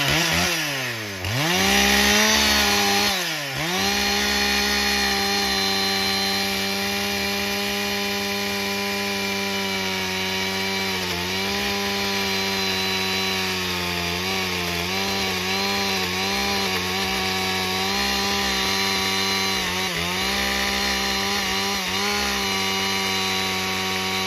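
A chainsaw makes a bore cut into top-bound wood, its engine screaming at a sustained high pitch with a brief dip early on, loud and close throughout.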